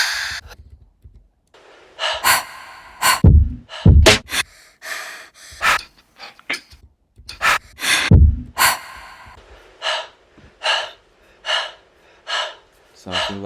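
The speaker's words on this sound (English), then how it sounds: "And next thing what you can add is like a breath" Repeated sharp breath sounds, gasps and inhales, used as samples layered into a bass music production. They come in rhythmic bursts, some heavy and close, and a few have deep low thumps under them.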